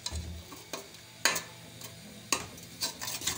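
Onions frying in a karahi, a soft sizzle broken by several sharp scrapes and stirs of a utensil against the pan, close and with no talking.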